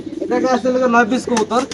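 Close, throaty cooing from pigeons, a few warbling phrases in quick succession.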